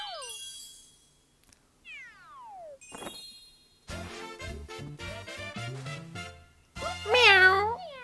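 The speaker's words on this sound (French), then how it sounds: "Miaou." Cartoonish cat meows from the video game Super Mario 3D World, several bright, sliding mews mixed with chimes and jingly game music, the loudest meow rising near the end.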